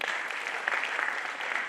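Steady applause from performers on stage clapping for themselves at a winter theatre festival play performance, a dense continuous patter of many hands throughout.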